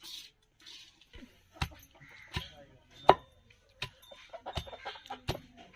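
Bitter gourd being pounded raw for chutney in a village kitchen, heavy dull thuds struck a few times at a slow irregular pace, with hens clucking softly in the background.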